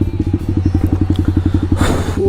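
A motorcycle engine idles close by with a rapid, even chugging pulse, then a short puff of breath or air is heard as the engine is about to be switched off.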